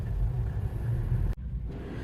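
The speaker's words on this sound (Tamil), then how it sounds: "We are getting back into Kampala. See the traffic?" Road traffic rumbles in Kampala, a steady low drone of car engines heard from inside a moving vehicle, briefly dropping before the hum resumes.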